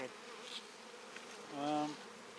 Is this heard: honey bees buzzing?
yes